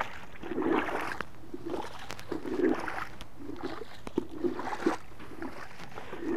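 Clothes are rinsed in water in a vintage hand washer, giving rhythmic sloshing surges roughly every second, close and moderately loud with no talk.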